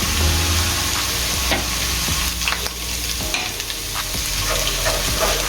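Chopped ginger and garlic fry in hot oil in a pan, giving a continuous loud sizzle with scattered clinks and scrapes of stirring, close up and with no talk.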